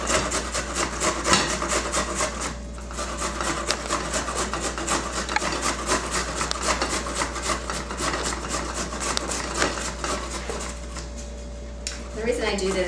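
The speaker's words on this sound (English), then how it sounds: "I get a grater and I just start to grate it." Peeled fresh ginger root scrapes against a grater in quick, steady rasping strokes, close and continuous, with a voice talking over the grating.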